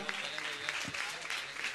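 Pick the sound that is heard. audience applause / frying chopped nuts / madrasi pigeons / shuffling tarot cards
audience applause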